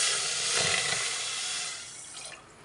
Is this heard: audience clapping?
no